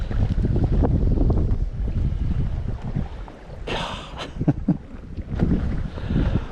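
Wind blowing across a pedal kayak on Greenbo Lake in December, with loud continuous buffeting rumble and a few light splashes and knocks near the end.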